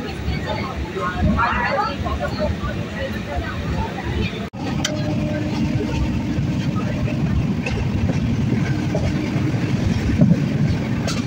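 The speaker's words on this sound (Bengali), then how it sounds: "এখন মেচেদা স্টেশন থেকে ছাড়লো ট্রেনটা" A train rumbles steadily from inside a carriage after leaving Mecheda station, a low continuous roar with a faint murmur of voices and a brief interruption partway through.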